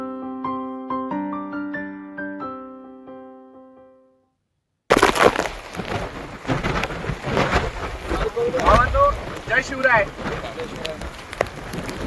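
A short melodic tune plays, then cuts abruptly to loud, steady wind buffeting the microphone on the Pavankhind battlefield trek route, with rain-like rushing and faint voices underneath.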